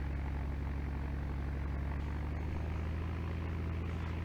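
Piper 28 single-engine propeller aircraft in a flight simulator game, rolling for takeoff: a steady, loud droning engine and propeller buzz with a constant low hum, unchanging throughout and with no talk.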